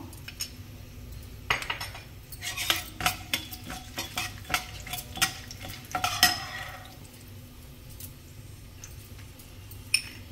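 Peanuts and sesame seeds dry roasting in a pan are stirred with a utensil. Close, repeated scraping and rattling bursts come in an uneven rhythm, with no talking.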